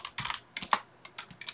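Keystrokes on a computer keyboard entering a chmod command on a Raspberry Pi running Ubuntu, a short run of quick, close, crisp clicks in small irregular clusters, heard alone without talk.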